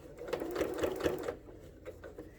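A sewing machine runs steadily, stitching through the layers of a rag quilt in a continuous mechanical hum with a slight rhythmic pulse, close and clear. It stops partway through, leaving faint handling sounds.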